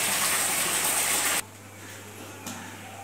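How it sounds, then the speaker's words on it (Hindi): Water gushes from a pipe into a bucket in a rural home where cows are watered, a loud hissing pour that suddenly drops to a quieter trickle midway, with no voices. "और साथ के साथ पाइप भी चल रहा।"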